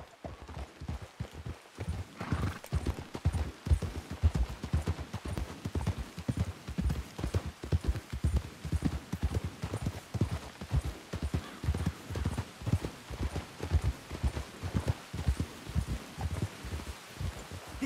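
Horses' hooves clip-clop at a steady walking rhythm in the video game Red Dead Redemption 2, a continuous run of dull thuds, moderately close, with no talking over them.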